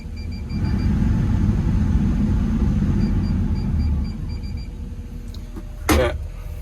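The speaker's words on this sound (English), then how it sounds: "this fan's working today" A machine fan runs steadily inside an excavator, likely a Doosan DX210LC-7 or DX140LC, in wet weather, giving a broad low rumbling drone that eases slightly partway through, with a brief louder knock near the end.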